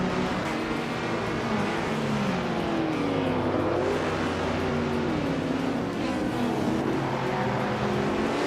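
A 1962 Ferrari 250 GTO and rival race cars pulling away from the start at Lime Rock Park in a video game, engines revving and shifting in a continuous loud roar of several cars, no talk.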